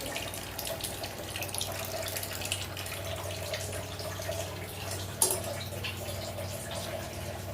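Liquid poured from a vessel into a cup indoors, a steady trickling stream running throughout with a short clink partway through.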